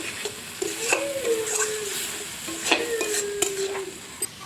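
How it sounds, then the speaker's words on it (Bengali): Tomato paste and spices sauté in a pan for an egg and pointed gourd curry, a soft continuous sizzle broken by several sharp scrapes and clinks of a spatula stirring against the metal. "মশলাটা ভালো করে কষিয়ে নেবো।"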